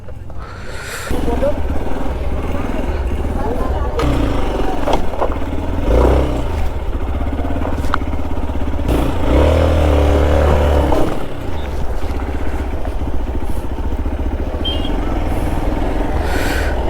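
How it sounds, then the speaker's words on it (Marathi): A motorcycle engine starts and idles with a steady throbbing rumble, revving up briefly midway, close by, with occasional clatter. "फायनली बाईक बाहेर काढलेली आहे आणि आता मी बाईक स्विच करतोय"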